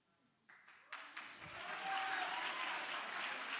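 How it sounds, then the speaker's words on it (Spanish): Audience applause at a science talk swells from a few scattered claps into a dense, sustained ovation from a large crowd, heard from a distance within the hall. "¿Qué aplauden?"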